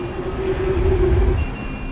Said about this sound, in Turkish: Sırf trafik, uğultu, korna.